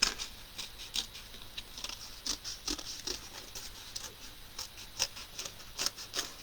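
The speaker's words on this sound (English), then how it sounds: "for cutting, I've got Viking scissors" Viking scissors snipping around a cut-out shape, a quiet run of small irregular crisp clicks and snips close by, with no talking.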